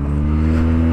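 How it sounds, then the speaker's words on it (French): A Yamaha TMAX 560 scooter fitted with an Akrapovic Racing exhaust idles close by, a deep, steady throbbing engine note with strong low tones, loud and continuous with no talk. "Petite sonorité sympa, hein, toujours pareil, le Acra Povic Racing."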